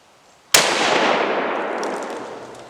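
A single sharp rifle shot cracks out in the snow during a buck hunt, loud and close, followed by a long rolling echo that fades over two seconds.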